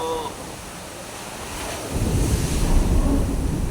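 Typhoon wind and rain at Manila, a constant roaring gusty rush that grows heavier and deeper partway through, loud and close on the microphone.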